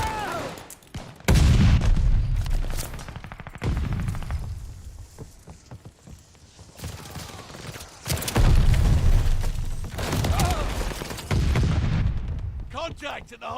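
Gunfire and heavy booms around a hard point in the shooter game Call of Duty Vanguard, coming in loud bursts separated by quieter gaps, with voices heard at times.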